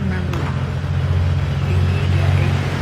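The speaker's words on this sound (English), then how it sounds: "Loud truck. Keep interrupting us." A loud, steady low rumble of a heavy truck engine passing fills the clip, with faint voices underneath.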